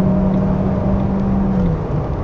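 A 1.6 car engine drones steadily at highway speed on a Brazilian federal road, a loud continuous roar with a sustained tone that dips slightly near the end, with no talking.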